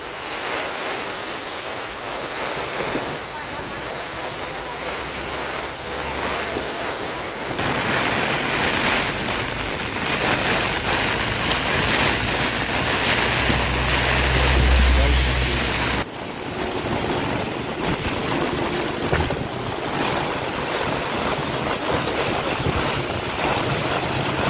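Steady roar of rushing floodwater from heavy rain in Vadodara, with a car stuck in the fast current and wind buffeting the microphone, loud and continuous throughout, swelling in the middle before easing back.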